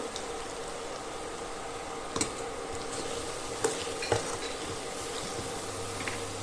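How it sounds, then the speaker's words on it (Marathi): Onion and tomato sauté with powdered spices in a pan over low gas, giving a steady soft sizzle broken by a few sharp clicks of a spoon stirring against the pan. "ह्याच्यामध्ये आपण जे पावडर मसाले घेतलेले होते ते सगळे घालून चांगले परतून घेऊया"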